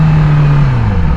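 A motorcycle engine held at a loud, close, steady drone with its pitch gliding downward as gears change, no voices over it.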